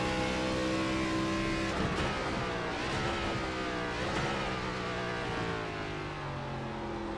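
A race car engine in the iRacing sim howls at high revs, its pitch climbing and dropping through several quick gear changes and lifts off the throttle, loud and continuous with no voices.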